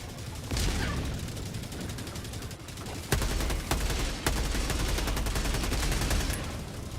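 Sustained automatic gunfire in Helldivers 2, a dense unbroken rattle of shots with a few sharper loud bursts partway through, close and loud throughout.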